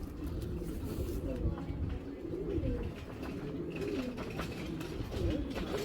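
Racing pigeon giving soft, repeated low coos, fairly close, under someone talking nearly throughout.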